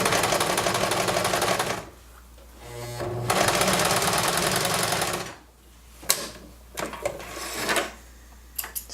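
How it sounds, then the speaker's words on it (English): A sewing machine runs straight stitches at a stitch length of 3, giving a loud, rapid mechanical whir in two bursts separated by a pause, then quiet with a few scattered clicks and handling sounds. "I've got my length set to 3 and I'm just going to go ahead and do some straight stitches."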